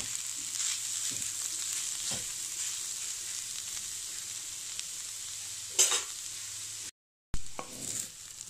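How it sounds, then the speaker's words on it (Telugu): Ivy gourd and fresh coconut curry fries in a pan, a steady close sizzle broken by a few scraping stirs and brief clatters, with one short silent gap near the end. "కొబ్బరి వేసాక అడుగు అంటకుండా కలుపుతా వేయించుకోవాలి"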